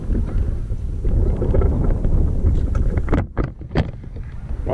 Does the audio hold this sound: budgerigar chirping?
no